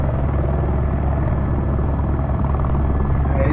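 A Eurocopter AS350 Ecureuil helicopter in a flight simulator gives a loud, steady, close rotor and turbine drone that holds even for the whole stretch, with no talking.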